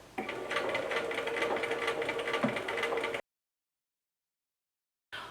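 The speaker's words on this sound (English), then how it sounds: "I am stitching with about 1/4 inch seam allowance or less." A sewing machine stitching fabric with a quarter-inch seam allowance, a steady fast mechanical whir close by for about three seconds, then silence before it briefly starts again.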